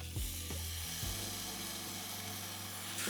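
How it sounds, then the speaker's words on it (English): Bacon crisps in a frying pan with a loud, steady sizzle that fills the whole clip, broken by a few low knocks of the pan or utensil near the start. "Next, we'll crisp up the bacon."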